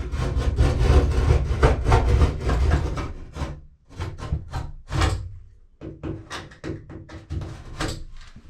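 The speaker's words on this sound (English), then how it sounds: "you can cut this stuff just like drywall. You just score one side," Utility knife scoring a sheet of Wedi foam backer board to cut it for a shower surround, a run of close, rapid scraping and rasping strokes, dense at first, then broken into shorter separate strokes.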